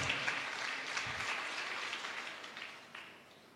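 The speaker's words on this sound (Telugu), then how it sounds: "మరి ఒకసారి అందరం గట్టిగా చప్పట్లు కొడుతూ థ్యాంక్స్" Applause from an audience at a student vicariate meeting, a steady wash of many hands clapping at moderate distance that slowly fades over several seconds.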